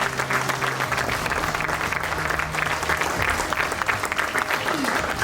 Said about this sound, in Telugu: big claps కొట్టాలండి please